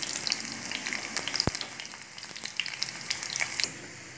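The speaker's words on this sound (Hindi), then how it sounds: "ये 3 टेबलस्पून मैंने देसी घी लिया और इसमें ये आधी प्याज है, इसको डाल के गोल्डन कर लेती हूँ।" Half an onion fries in three tablespoons of desi ghee, a continuous crackling sizzle with bright popping spatters and one sharp clink partway through, close and clear with no voices.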